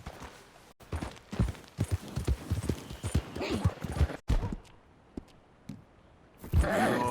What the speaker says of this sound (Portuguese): Com o nosso cavalo aqui.